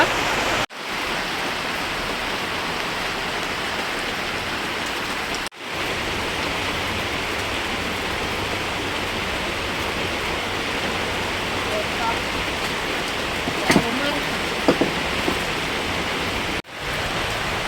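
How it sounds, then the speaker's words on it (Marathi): Steady heavy rain pours down in a dense, continuous hiss close by, broken only by brief cuts, with a few faint knocks in the middle. "पावसाने माझी विनंती ऐकलेली आहे आणि पाऊस राजा मेघराजा आलेले आहेत"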